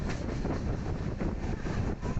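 A train rolls through hilly country near a hill station, a steady, dense rumble of wheels and carriages that holds at an even level throughout, with no voices.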